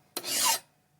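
A file rasps once across the rusted edge of an axe, a single close, dry scraping stroke lasting about half a second before falling quiet.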